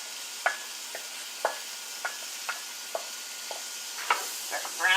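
Onion and celery cooking in butter in a pan, a soft sizzle under a string of sharp, evenly spaced clicks and scrapes of a utensil stirring, ending in a busier burst of stirring.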